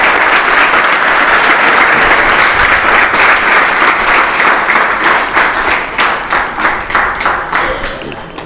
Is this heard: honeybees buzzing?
no